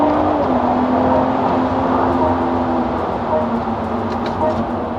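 A performance car that reaches 100 km/h in 4.4 seconds accelerates hard out of a corner. Its engine gives a sustained, loud drone with a steady pitch that holds strong throughout.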